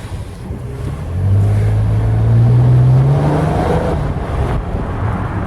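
Wind rushing loudly through an open window of a moving 2016 Nissan Maxima, a steady buffeting roar with a rising engine drone underneath and no talking.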